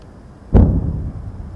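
A single sharp explosive boom from shelling and artillery fire along the Line of Control near Poonch, a sudden loud blast that decays into a rumbling tail, with no talk over it.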